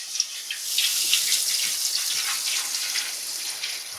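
Apple juice is poured from close range into a hot pan inside a smoker, giving a continuous hissing, splashing gush of liquid that carries steadily from start to finish.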